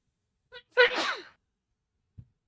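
A single loud, close sneeze with a short breathy intake just before it, followed by near silence and a faint small sound at the end.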